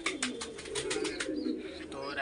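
Pigeons coo nearby in a rhythmic series of throaty pulses, with a few higher chirps toward the end and faint background noise.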